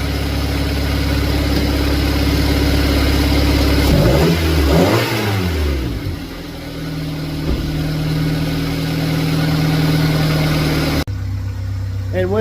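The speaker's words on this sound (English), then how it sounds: "I'm going to give it a few revs and see if any fuel comes" Honda Civic engine after fuel injector work, idling steadily, then revved in a rising and falling burst before settling back to a smooth idle, heard close up with a voice speaking over it.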